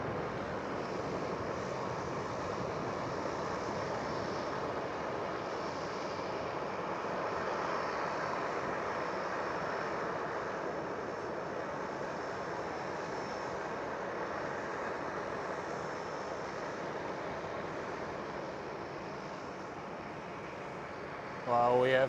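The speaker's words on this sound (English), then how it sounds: "There goes the KLM Cityhopper." A KLM Cityhopper airliner passing at Schiphol airport, Amsterdam, its steady broadband engine roar sustained loudly throughout.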